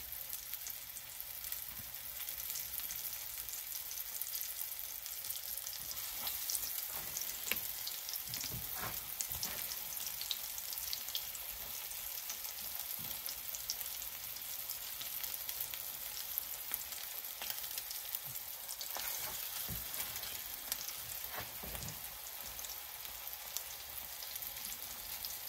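Salmon cakes made from canned salmon, patted out and floured, fry in hot grease with a steady crackling sizzle and scattered sharp pops, with no talking.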